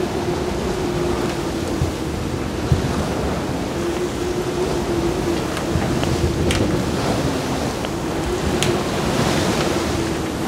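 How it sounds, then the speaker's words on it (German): Strong wind and breaking waves at sea on a stormy night aboard a single-handed sailing yacht in force 7 to 8 conditions, a continuous roaring wash with occasional gusts and splashes, steady and close. "Und so geht es hinein in eine stürmische Nacht auf See."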